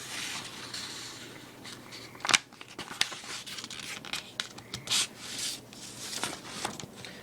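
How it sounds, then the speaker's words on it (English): A sheet of paper being folded and creased by hand for black powder paper shells, giving soft rubbing, sliding friction with a few sharper crinkles and snaps, close up and with no talk. "You fold the piece of paper."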